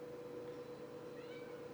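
A barn cat meows faintly over a steady electrical hum, with machinery such as an air compressor in the background.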